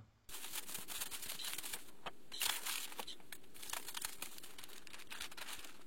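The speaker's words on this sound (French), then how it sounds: "reste plus qu'à déballer maintenant" A Concept2 rowing machine is unpacked from its packaging, with close crinkling and rustling of wrap, scattered sharp crackles and a louder tearing burst partway through, all quiet and without speech.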